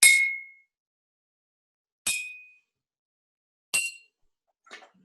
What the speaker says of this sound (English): will the sound change if I hit it with a metal knife?